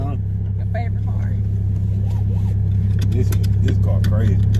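Interior of an Audi R8 sports car on the move, with a steady, loud low engine drone running throughout and people talking over it.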